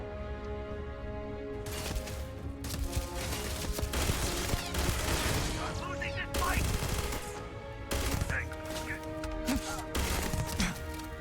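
Turret gunfire in the Starfield video game, rapid bursts of shots in several volleys with brief gaps, set against a steady musical score and game ambience.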